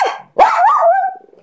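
A dog gives a single loud, close bark followed by a drawn-out, whining growl-like yowl that fades into faint trailing sounds while someone teases it.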